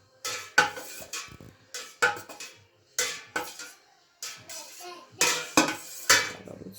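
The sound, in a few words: cutting curdled milk into cubes in saucepan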